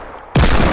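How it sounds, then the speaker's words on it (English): Gunfire in the video game Fortnite erupts suddenly as a loud, dense burst of rapid shots that keeps going after a brief quiet lead-in. "Who is that shooting?"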